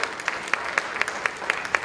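An audience at a Rotary District 3010 event applauds, with an even, rhythmic clapping heard alone at moderate volume throughout.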